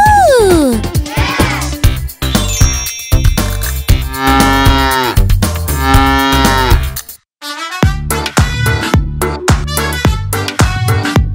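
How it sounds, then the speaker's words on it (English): A cow moos several times, long drawn-out calls against music and other sound effects, as part of a children's farm animal toy show. "Let's see what the cow says. The cow goes... Moo! Moo!"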